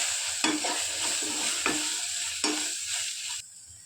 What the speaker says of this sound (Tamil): மஞ்சத்தூள் மட்டன் பொடி தேவையான அளவு கரம் மசாலா எல்லாம் போட்டு நல்லா வதக்கணும்